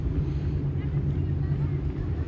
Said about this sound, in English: you're hearing some of the engines going on